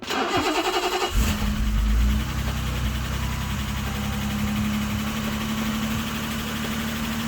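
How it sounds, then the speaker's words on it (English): A BMW E23 engine cranks with a rapid rhythmic churn, catches and fires up for the first time, then settles into a steady, fairly loud idle. "The car is finally running under its own steam."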